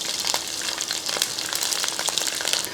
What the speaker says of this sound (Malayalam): ആ വെളുത്തുള്ളി അങ്ങോട്ട് ഇട്ട് കൊടുക്കുക ആദ്യം വെളുത്തുള്ളി അങ്ങോട്ട് ഇട്ട് കൊടുക്കുക